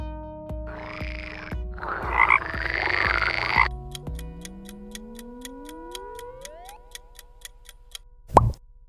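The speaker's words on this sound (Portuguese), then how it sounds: "é do sapo." A frog gives a run of loud, close croaks over the first few seconds, followed by quieter ticking, rising tones and one sharp sound near the end.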